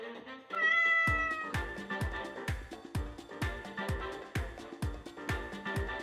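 A cat gives a clear, drawn-out meow near the start, followed by a quick run of sharp, regularly repeating pulses that continue to the end.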